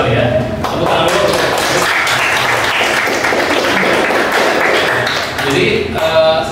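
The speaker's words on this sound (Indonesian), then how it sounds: "Tepuk tangan dulu." Dense applause from a group clapping steadily for several seconds, fading slightly at the end.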